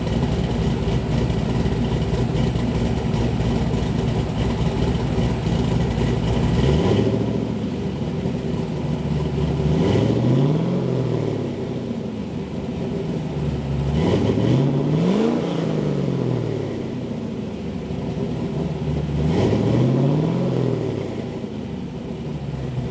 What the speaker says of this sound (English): So I'm going to give you guys a taste of a little bit of a rev.